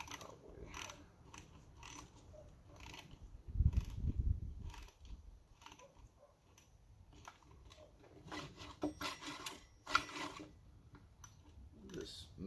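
A Moto 4 pull starter being pulled and tested during a rebuild: repeated ratcheting clicks and gear-like rattles, close and fairly quiet, with a person talking intermittently over the mechanism.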